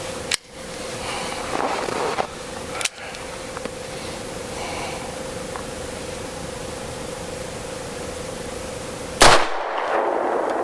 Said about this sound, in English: Let's shoot the 38 Special.